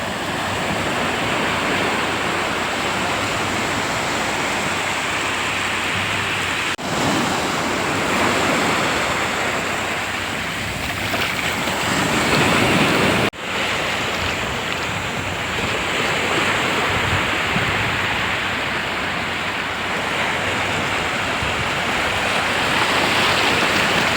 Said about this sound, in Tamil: பீச்சு ரொம்ப ஃப்ரீயாக அமைதியாக இருக்குது